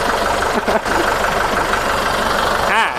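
A used Kubota or Iseki farm tractor's diesel engine idles steadily close by, a continuous low rumble with a brief dip early and a short voice near the end.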